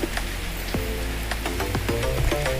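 Light drizzling rain near a village train line makes a steady, soft hiss throughout, with scattered tonal sounds drifting over it.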